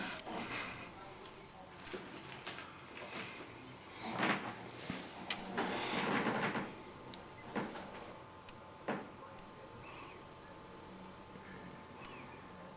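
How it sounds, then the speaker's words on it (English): Creaky chairs squeaking and groaning in a room during a model railway DCC chip test, with several scattered creaks in the middle under nearby conversation. "It's these creaky chairs is what it is."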